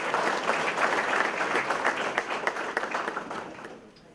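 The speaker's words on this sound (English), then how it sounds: "I'd like to really clap for you guys." Audience applause at a company event, a crowd clapping in a dense, lively burst that gradually thins into scattered claps and fades out.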